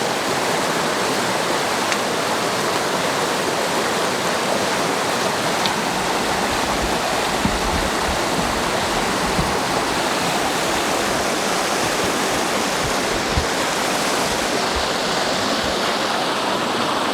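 Water running steadily from a portable reverse osmosis drinking water purifier, a continuous close hissing splash that holds an even loudness throughout with no voices.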